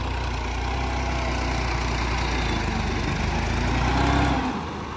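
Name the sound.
small tractor with blade engine running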